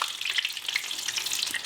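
Eggplants frying in hot oil for Armenian Urfa kebab, a steady, close, bright sizzle and crackle with continuous spattering and no pauses.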